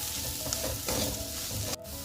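Turmeric, red chili, salt, coriander powder and garam masala sizzle in hot oil in a pan while a spoon stirs them, giving a close, continuous frying hiss with soft scraping passes and no speech.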